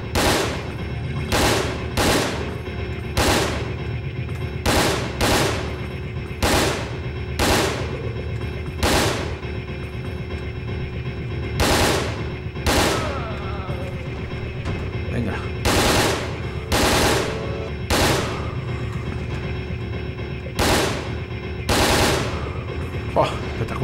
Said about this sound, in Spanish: Ametralladora de tambor, diseñada para fuerzas especiales. Dispara ráfagas de 100 tiros.